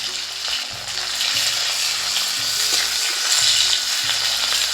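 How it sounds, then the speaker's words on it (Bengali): Green chillies fry in a hot electric kadai cooker, a loud continuous sizzle with the scrape and clatter of stirring running through it and no talking. "দিয়ে দিচ্ছি লঙ্কা, এই যে একটু ভালো করে নেড়ে চেড়ে দেবো।"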